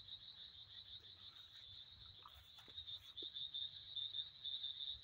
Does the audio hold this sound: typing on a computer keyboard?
no